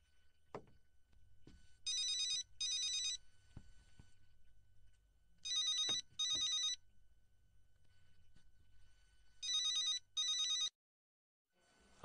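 A telephone rings in three bursts, each a pair of electronic double rings, separated by quiet gaps with faint thumps in a quiet room.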